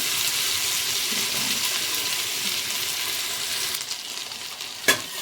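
Ginger, garlic and green chili paste frying in hot oil for restaurant-style chicken biryani, a loud continuous sizzle that drops away near the end, followed by a sharp utensil knock, with no voices.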